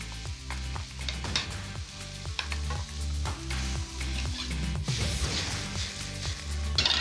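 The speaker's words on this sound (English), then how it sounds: "Keep everything moving and add the garlic and ginger. Right, carrots are going in." Carrots stir-fried with garlic and ginger in a hot wok for beef noodles, giving a loud continuous sizzle with rhythmic tossing and scraping of the pan.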